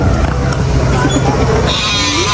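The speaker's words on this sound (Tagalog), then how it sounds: "Ayun yun ang kambing." A goat bleats at a rural home during birthday preparations, several wavering cries over busy outdoor background noise with voices talking nearby.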